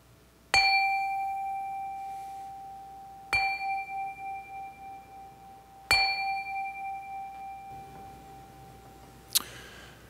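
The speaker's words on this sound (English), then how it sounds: "let's settle our minds and let's calm our hearts with the ringing of the chime" A chime struck three times during a church service rings out clearly, each strike a bright metallic tone decaying slowly over a few seconds, followed by a faint final tap.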